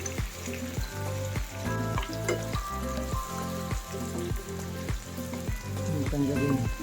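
Mussels and spaghetti fry in a pan for a carbonara made without cream, giving a loud, steady sizzle with repeated stirring and scraping strokes and faint background sounds.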